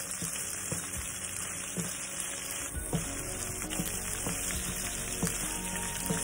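A pan of liquid containing whiskey and Tabasco sizzles and boils down, giving a constant crackling fry with scattered sharp pops and spits, close and continuous, with no talking.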